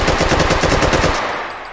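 Rapid automatic gunfire from a video game weapon sounds in a fast, even burst of sharp shots, loud and close, then cuts off and rings out briefly.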